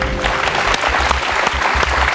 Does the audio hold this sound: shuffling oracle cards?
no